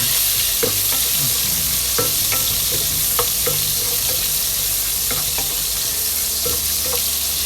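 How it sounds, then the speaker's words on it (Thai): Crushed garlic and pork belly stir-frying in a pan, a loud continuous sizzle with the recurring scrape and clack of a utensil stirring the food at an uneven pace. "กระเทียมที่เราตำนะครับไว้ ใส่เข้าไป ใส่ด้วยกันเลยครับ ในการผัดให้มันหอม"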